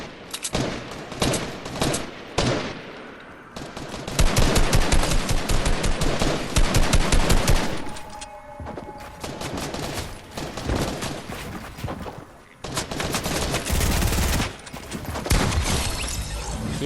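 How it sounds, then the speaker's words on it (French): Gunfire in the video game Fortnite: loud rapid automatic bursts and single shots crackle almost continuously, with short gaps between volleys and no talking over them. "donc par là ça tire."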